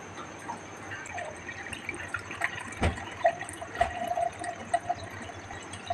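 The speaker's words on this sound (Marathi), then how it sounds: "आता ही कमीत कमी 200 ml वॉटर असेल, 200 ml वॉटर" About 200 ml of water is poured into a mixer jar in a kitchen, a light trickling and dripping splash with small plops and a soft background hum.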